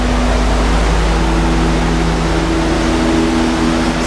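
A 1964 Lincoln Continental engine fitted with an Edelbrock 1406 carburetor idles high on a warm day, a steady, loud, even hum with a constant low drone and no change in pace throughout.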